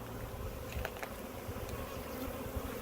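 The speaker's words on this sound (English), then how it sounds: "you'll notice that the bees are very, very loud" A honey bee swarm on a fence buzzes loudly and continuously, a dense, close droning hum of many insects with no voices.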